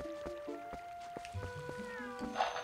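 A cat in The Legend of Zelda: Twilight Princess gives a short meow near the end, over plinking game music notes.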